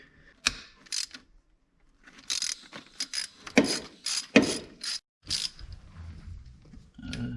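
A ratchet works on the bolts holding the pump of a cheap salvage BMW under rebuild. It clicks in short bursts separated by pauses, nearby and moderately loud, with no talking.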